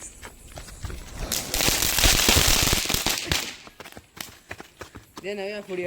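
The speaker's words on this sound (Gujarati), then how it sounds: "ટેડીના પગોમાં ફટાકડો ફોડવાનો છે" Diwali firecrackers burst close by near a dog, giving a sharp crackling blast that swells mid-clip and then breaks into scattered pops, with people talking around it.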